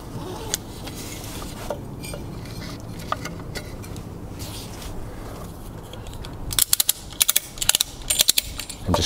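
A ratchet strap being cranked to take the weight of a Yamaha outboard lower unit gearbox: after some quiet shuffling handling noise, a rapid series of sharp ratcheting clicks in short bursts, close and loud, with no talk.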